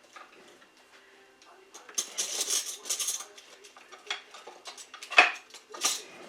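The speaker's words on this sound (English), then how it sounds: "I'm going to get a big fork" A big fork works pot roast inside an Instant Pot, making light metallic clinks and scrapes against the pot with one sharper clank near the end, close and moderately quiet, with no voices.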